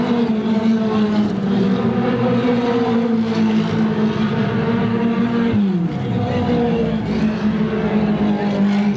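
Modified four-cylinder race cars in a main event at Cherokee Speedway during the 1994 Blue-Gray 100 make a loud, constant engine drone as they race. Around the midpoint the pitch drops sharply, then it climbs back up.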